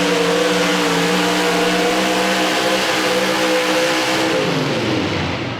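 A hot rod semi truck roars loudly at a truck pull, its engine holding a steady, heavy drone close by before the pitch drops and the sound fades out near the end.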